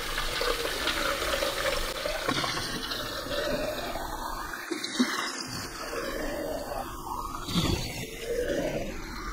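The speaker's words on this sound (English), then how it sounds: "I've filled that up to the max now with just fresh, clean tap water" Tap water runs from a kitchen faucet to fill the water tank of a Nescafe Dolce Gusto coffee machine, a loud, close, continuous splashing whose tone shifts as the tank fills.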